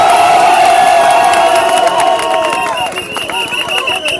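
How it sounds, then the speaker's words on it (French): A large crowd cheers loudly, with whoops and shouting voices over a dense wash of noise that dips slightly toward the end. "Applaudissez pour vous-même."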